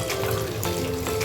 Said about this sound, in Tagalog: pinalitan na naman natin itong kasirola natin. So, hugasan muna natin.